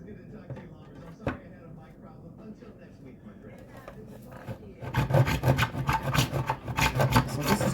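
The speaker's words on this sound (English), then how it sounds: "I'm going to place this PVC right here and saw through it." A handsaw in a miter box cuts through PVC pipe. After a few quiet, faint scrapes, steady rhythmic back-and-forth sawing strokes start midway and grow loud and close.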